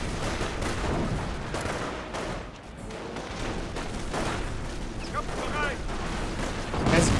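An M3 half-track's gun fires during a Company of Heroes battle, dense bursts of shots and booms rolling through a busy combat mix with voices over it.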